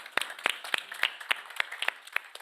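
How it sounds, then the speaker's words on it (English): A small audience at a research challenge finals claps in a sparse, uneven patter of separate handclaps, close and fairly crisp, lasting a couple of seconds. "All right, please give applause."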